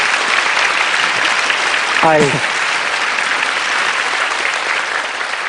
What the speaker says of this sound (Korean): 여러분 큰 박수로 환영해 주세요.